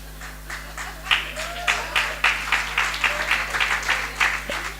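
Scattered clapping in a church, a handful of separate claps rising in rhythm over a low steady hum, fairly close, with faint voices underneath.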